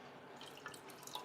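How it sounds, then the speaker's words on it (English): Hydrogen water trickles and splashes into a cup for a quick rinse, a faint, close liquid patter with small drips running throughout. "I'm going to put a little hydrogen water in here just to clean out the cup."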